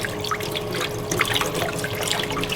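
Aquarium plants being rinsed in a bowl of water to wash off bugs: steady close trickling and splashing with scattered drips, continuous and even, no speech.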